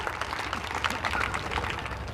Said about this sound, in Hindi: राष्ट्रीय अध्यक्ष माननीय उमेश सिंह गौतम जी के लिए जोरदार तालियां।